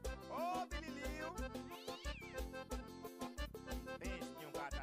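Cat meows woven into a Brazilian pop song, with repeated meowing calls riding over a pulsing beat and sung music throughout.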